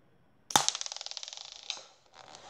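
A toy connector ball launcher fires with one sharp bang, followed by a fast rattling mechanical ratchet that fades over about a second, then a brief clack. Loud and close, with no voices.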